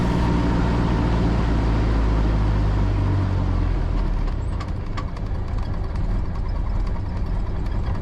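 Engine of a Cessna Skyhawk 172R being throttled back to idle on the ground, a loud, close, droning roar that drops to a lower, rougher idle partway through.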